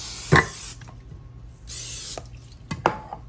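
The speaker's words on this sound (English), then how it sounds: "Maybe I'll spray my pan a little bit." Two short bursts of cooking spray hissing onto a pan, with light clinks and knocks of cookware around them, close by and fairly quiet.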